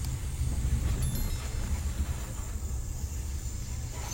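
An international sleeper train pulls into Padang Besar station on the Thai-Malaysian border, giving a steady, loud low rumble of rolling carriages with faint hiss and squeal above it and no pause.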